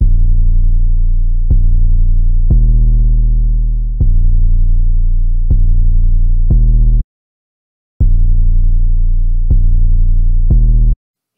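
A deep 808 bass sample soloed in a Cakewalk sampler plugin plays a rhythmic pattern of booming sustained notes with sharp attacks, loud and close, broken by a brief silent gap before the pattern resumes.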